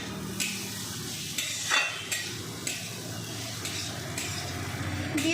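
Chhole frying in a pan as a pre-fried egg is added and stirred in, with a steady soft sizzle and a few scraping stirs and light clinks across the clip.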